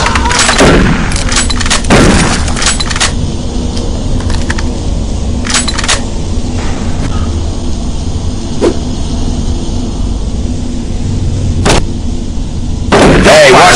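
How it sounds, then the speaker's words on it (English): Gunshots in the shooter game Doom 3, a series of sharp, loud cracks scattered irregularly across the clip with metallic clinks and game ambience between them. "Hey, watch the shooting in here. You're gonna kill someone."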